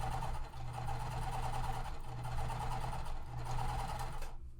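A sewing machine chain pieces quilt blocks for a Tree of Life quilt, running in a continuous, steady close hum with a low motor drone throughout, stopping abruptly at the end.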